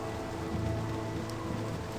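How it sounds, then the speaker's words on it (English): Steady in-game rain pours down in Baldur's Gate Enhanced Edition, a dense, even hiss of drops on the ground holding at a constant level for the whole stretch, with no voices over it. "we're getting bloody peeing wet through in the rain"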